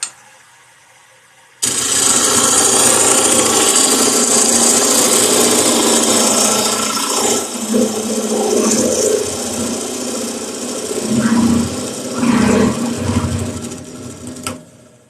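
A woodturning gouge cutting a spinning wood blank on a lathe: a sudden steady, rasping cut that runs for several seconds, then turns choppier with uneven scraping bursts before stopping.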